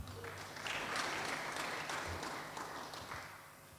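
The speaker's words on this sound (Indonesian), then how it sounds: "Yuk tepuk tangan." Congregation clapping during an online church service, a continuous wash of hands swelling and then slowly fading, heard at a distance and fairly faint.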